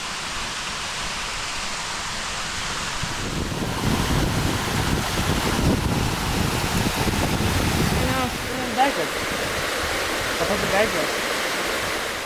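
A steady, full rush of falling water from a waterfall and stream at a sanctuary in Tepoztlán runs unbroken the whole time, loud and close, with a slight rumble underneath.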